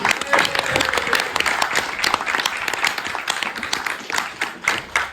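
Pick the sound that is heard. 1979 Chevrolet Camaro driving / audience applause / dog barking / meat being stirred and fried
audience applause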